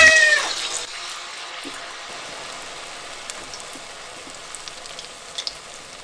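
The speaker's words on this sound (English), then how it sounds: "Then gently release it into the hot oil." Kakiage batter with vegetables is dropped into hot oil, giving a brief burst of loud sizzling that settles into a softer, steady crackle with scattered small pops.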